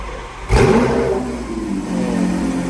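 Lamborghini Aventador SVJ supercar engine firing up with a sharp rev, then holding a loud, throaty idle close by with no talk over it.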